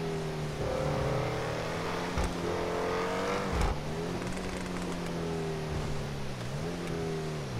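An Ocelot XA-21 sports car engine with no turbo hums and revs in GTA, pitch climbing and dipping through gear changes, fairly quiet and steady.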